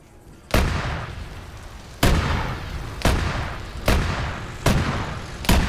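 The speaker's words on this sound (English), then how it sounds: "Auto cannon shots going in." Autocannon fire in a British versus Germans PvP match of a military video game: six loud, sharp booming shots spaced about a second apart, each trailing a short rumbling decay, with no voices over them.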